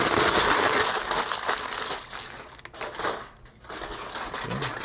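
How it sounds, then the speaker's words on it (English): Aluminium foil crinkles and crumples loudly as it is wrapped tightly around a smoked tri tip, with irregular rustling bursts that ease off and pick up again. "just gonna wrap this up in some foil paper"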